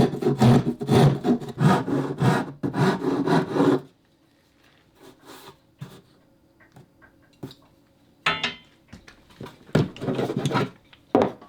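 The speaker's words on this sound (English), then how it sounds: "Here I'm tapering the edges so I'll have a more comfortable grip." Edges of a wooden pinch block being tapered by hand, heard as close rasping strokes in a quick back-and-forth rhythm, then a pause with small scattered scrapes before the rasping resumes.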